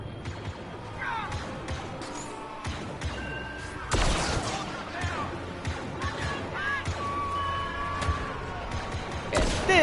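Blaster gunfire in the video game Star Wars Battlefront 2 fires in rapid bursts amid a busy battle with explosions and impacts, with someone talking over the action.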